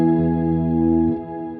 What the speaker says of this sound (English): The next one is called Light. It's like a Shimmer reverb.